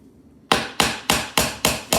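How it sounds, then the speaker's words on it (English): Six sharp, evenly spaced hammer blows drive a piece into place for a DIY cocoa bar, each a loud close crack with a quick decay, in a steady rhythm. "and hammer all the way."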